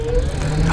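A homemade electric bicycle driven by a hoverboard hub motor at 52 volts accelerates hard, a steady whining hum rising briefly in pitch over a constant low drone, close and loud.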